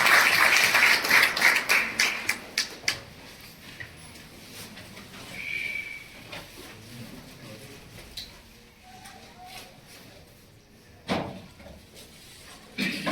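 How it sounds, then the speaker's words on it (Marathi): Applause from a crowd of former students at a school reunion, dense clapping for the first few seconds that tapers off, followed by quieter room sounds and a couple of sharp knocks. "टाळ्यांचा कडकडाट"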